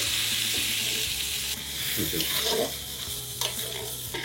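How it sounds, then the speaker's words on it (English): Vegetables including potatoes and brinjal sautéing with masala in hot oil, a dense steady sizzle with spoon scrapes and stirring clatter midway, close and fairly loud, without speech. "Now saute the vegetables in the oil for 2 to 3 minutes till they change their color."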